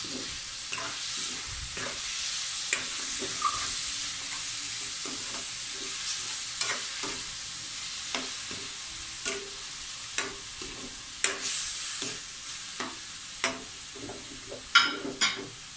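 Creamy chicken and mushrooms being stirred in a frying pan, a spoon scraping and clacking in irregular strokes over a steady sizzle, close and moderately loud.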